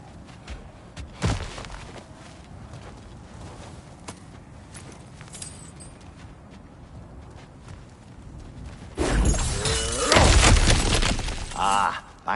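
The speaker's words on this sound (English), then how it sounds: "Back to smashing through things for fun and profit." Ground cracking and smashing apart in God of War Ragnarök: a heavy crunching burst of breaking rock and debris, loud and close after a quieter stretch of ambient background with faint thumps.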